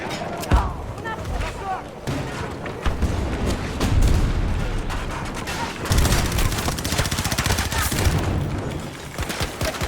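Sustained gunfire in Battlefield 2042: dense rapid shots, heavy booms and distant blasts running almost continuously, with voices talking over the battle.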